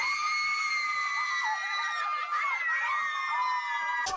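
Young women scream excitedly in a Heineken beer advert on seeing a giant walk-in wardrobe in a new apartment, a sustained, overlapping chorus of high-pitched shrieks rising and falling for several seconds.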